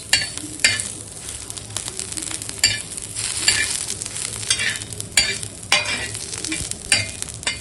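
Ingredients for chutney roast in a pan, a close steady sizzle with repeated scraping stirs and spatula knocks at an uneven rhythm, with no talking.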